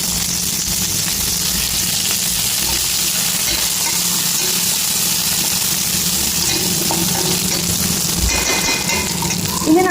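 Curry leaves sizzle in hot frying oil in a home kitchen, a steady, loud, broad hiss of frying running without a break from start to end, with faint stirring clinks near the close.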